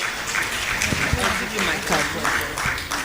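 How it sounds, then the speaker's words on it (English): Conference audience at a 2015 insurance industry gathering applauds steadily, a thick wash of clapping that runs continuously while a voice talks over it. "Another round of applause, ladies and gentlemen."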